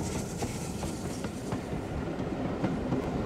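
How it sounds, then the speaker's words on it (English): An auto train on the Southern line between Yeovil Junction and Yeovil town station runs past in 1996, a steady rumble with rhythmic clickety-clack of wheels on rail joints. "the auto train returns to its regular run from Yeovil Junction to the town station"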